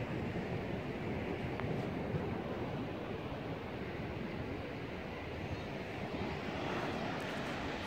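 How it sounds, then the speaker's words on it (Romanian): Ocean surf washing onto a fine-sand beach at Matalascañas, Huelva, Spain, a steady broadband roar of breaking waves mixed with wind, continuous and fairly close with no talking. "Foarte tare la ocean."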